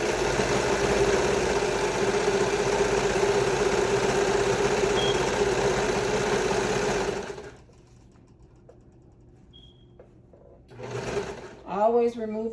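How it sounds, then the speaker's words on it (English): A serger overlocks the edge of a pair of fringed shorts, running as a loud steady mechanical whir for about seven seconds before stopping; quieter handling and a brief voice follow. "So I'm going to serge that"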